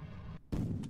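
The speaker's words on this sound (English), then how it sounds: "Ooh, that was a bit of an explosion going on there." Rocket stage separation blast in Kerbal Space Program: a steady engine roar cuts out, then a loud, sudden explosive boom bursts in and rumbles on to the end, heard alone without talk.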